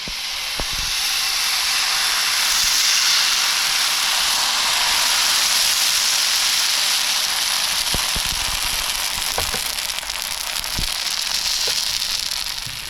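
Amboli batter poured onto a hot griddle, giving a steady, loud hiss of sizzling throughout, with a few sharp pops and crackles along the way.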